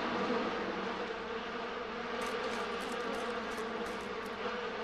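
Cartoon bees buzz steadily in a swarm, a continuous droning hum filling the scene from start to finish at a fairly even, moderate level with no talk over it.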